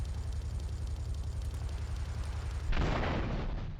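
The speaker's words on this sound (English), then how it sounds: "You have to hit her with the rocket launcher." A rocket launcher explosion in Grand Theft Auto 3 bursts loudly over a constant low rumble, followed by a broad, sustained roaring blast.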